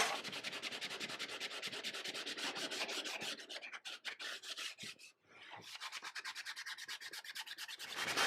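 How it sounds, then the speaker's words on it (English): Sandpaper rubbed by hand over a plastic pattern in a mold-making shop, steady rapid scratchy back-and-forth strokes, close and fairly quiet, with a brief pause midway before the rhythmic rasping resumes alone. "We're going to want to take sandpaper and finish that because the plastic will register that."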